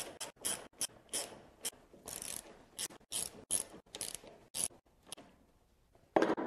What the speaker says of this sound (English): Now I'll run the screws from the bottom railing into the newel and at the top.